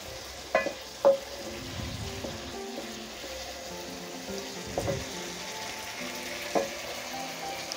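Aloo keema, minced meat with potatoes, fries in a pan with a low, steady sizzle close by, broken by a few sharp clinks and scrapes of a spoon against the metal.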